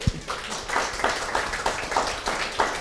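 Children at a primary school drama activity clap in scattered, uneven bursts, a roughly rhythmic patter of small hands at moderate distance, fairly soft, with a faint voice at the start.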